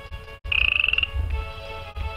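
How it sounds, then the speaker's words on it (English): A synthetic frog croak from a VTech Tote & Go kids' learning laptop rings out in a quick rattling pulse, followed by a softer ribbit, like a toy's electronic sound effect. "Frog."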